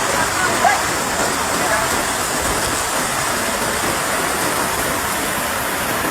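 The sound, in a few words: heavy rain falling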